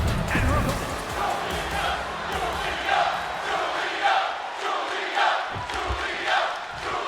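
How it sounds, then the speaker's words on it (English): A video game wrestling crowd roars in WWE 2K26, a steady cheering wash with rhythmic chant-like swells every second or so, a commentator talking over it. "the crowd is behind Julia right here in this match"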